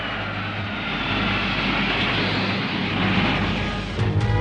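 Cartoon spaceship engines start up with a loud, continuous roaring drone that swells over a few seconds, a low hum joining near the end, with no talk.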